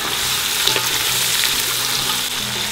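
Lamb pieces browning in a large stew pot, a loud steady sizzle with stirring scrapes close up, with no talking.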